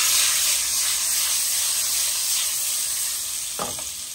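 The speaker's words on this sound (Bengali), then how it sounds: "আগে ডিম ভেজে নিচ্ছে" Duck eggs sizzle loudly and steadily in hot oil, a continuous frying hiss with a brief scrape near the end.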